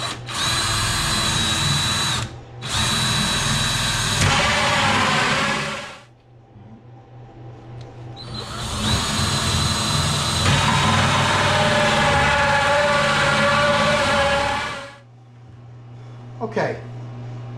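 A power drill with a guide bit cuts 3-inch holes into an epoxy resin center console. It runs in two long, loud whirring bursts separated by a short pause, then winds down, and a brief knock follows near the end.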